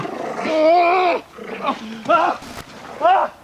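A dog snarls and growls aggressively in harsh bursts, close by, while a person shouts and cries out in distress over it.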